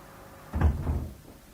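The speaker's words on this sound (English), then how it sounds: "close the door" In an office scene of a radio drama, a door is closed, giving one dull, muffled thump followed by a short low rumble that fades against quiet room tone.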